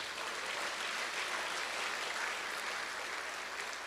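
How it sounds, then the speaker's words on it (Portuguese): A church congregation applauding during a sermon, a soft, continuous and fairly distant roar of many hands clapping with no single claps standing out. "Você pode aplaudir o Senhor Jesus por isso?"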